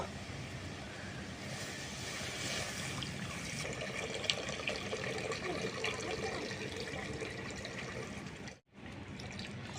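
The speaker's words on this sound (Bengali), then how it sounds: "এখন আমি কড়াতে দুধটা ঢেলে দেব" Two packets of milk poured into a kadai for homemade sweet curd, a steady close liquid rush lasting several seconds before breaking off abruptly, with no one speaking.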